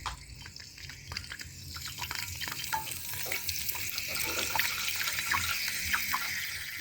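Curry leaves crackle and sizzle in hot oil, a sharp spattering hiss that swells and grows steadier, with occasional clinks of a spoon.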